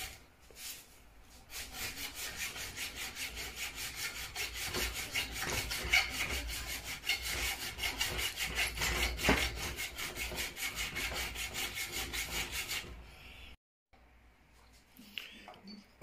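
Saw blade cutting with rapid, regular back-and-forth rasping strokes, loud and close for about twelve seconds, then breaking off into near silence with a few faint handling noises.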